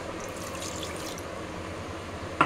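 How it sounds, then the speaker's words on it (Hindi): Water pours into a mixer grinder jar holding chutney ingredients, a continuous soft splashing stream at close range, ending with a small knock. "इसमें थोड़ा पानी डाल देते हैं"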